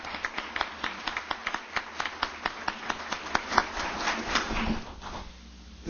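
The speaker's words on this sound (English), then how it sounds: "So let's give him a round of applause." At a tribal council awards meeting, a small audience claps in a sparse, evenly spaced patter of distinct hand claps lasting about five seconds before fading out, with no voices.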